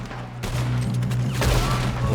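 Rapid bursts of gunfire during a train robbery in the video game Red Dead Redemption 2, dense and loud volleys filling the whole moment with no pauses.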